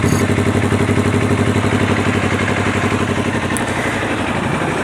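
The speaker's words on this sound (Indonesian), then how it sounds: "Teman-teman bisa dengar suaranya seperti suara knalpot standar atau bawaan pabrik, seperti knalpot orinya." Close and loud, a Honda CBR250RR with a racing exhaust runs with a steady, fast-pulsing engine note that eases slightly toward the end, with no talking.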